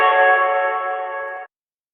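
A single held chord on a Rhodes electric piano, processed through a convolution reverb plugin, rings with bright tonal harmonics for about a second and a half, then cuts off into silence.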